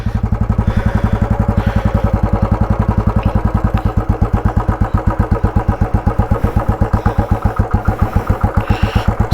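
A motorcycle engine runs close and loud, its fast steady thump idling evenly throughout after starting, with no clear gear clunk and no talk.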